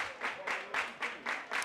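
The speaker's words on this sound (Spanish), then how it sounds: "Palmas en el municipal" Applause and clapping swell and fade in rhythmic bursts from the crowd at a municipal football stadium during a San Pedro versus Alhaurín de la Torre match, moderately distant and steady.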